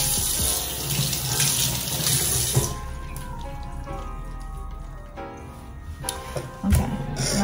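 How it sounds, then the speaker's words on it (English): Salmon fillet rinsed under a running kitchen faucet, with a steady stream of water splashing into the sink and a few louder knocks and drips near the end. "I'm gonna rinse it off."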